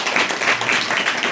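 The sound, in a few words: congregation clapping for the Lord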